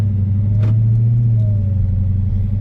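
A Dodge Charger Hellcat with a JLT cold air intake rumbles at close range, a deep steady idle with no hard revving.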